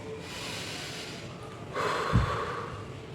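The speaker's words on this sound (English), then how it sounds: "breathe in through your nose and try breathing out through your mouth like this" A person takes a slow, deep breath in through the nose, then exhales audibly through the mouth in a breathy rush, close and alone.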